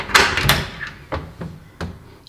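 A door being handled, with a cluster of knocks and latch clicks followed by a few sharper thumps spaced apart, close and fairly loud, with no talking.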